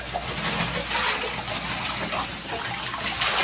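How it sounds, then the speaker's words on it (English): Tap water runs in a steady, broad hiss, loud and continuous throughout, with no voices over it. "Do you want me to turn the water off?"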